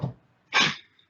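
A single short sneeze bursts out after a faint breathy sound, close and sharp, followed by quiet.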